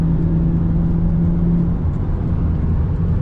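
Lexus IS300 with a carbon hood accelerating, a steady engine drone with road noise that holds a firm low hum and then eases slightly, with no voices.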